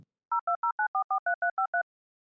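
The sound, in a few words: telephone dial tone while making a call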